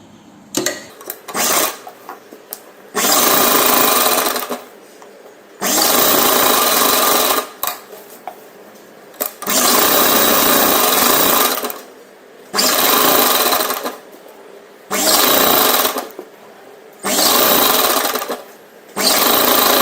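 Repeated loud bursts of a sewing machine attaching a sleeve to a lehenga top, each run lasting one to three seconds with short pauses between, very close and steady.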